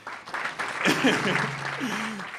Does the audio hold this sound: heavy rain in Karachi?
no